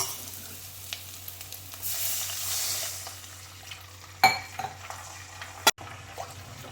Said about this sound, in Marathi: आता आपण याच्यात पाणी टाकूया